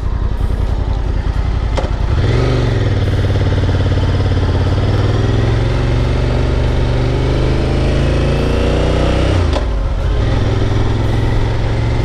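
A Honda Hawk 11 motorcycle engine runs loudly and close, revving up and holding a steady drone as the bike rides, with shifts in pitch as it accelerates.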